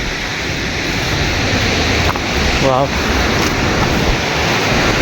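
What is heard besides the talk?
Tarabu waterfall rushing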